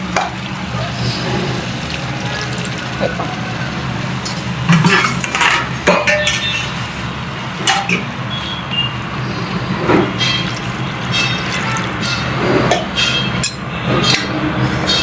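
Water is poured into a pan of frying vegetarian chicken curry, with a loud, continuous splashing gush close by, and spoon and pan clatter breaking through at intervals.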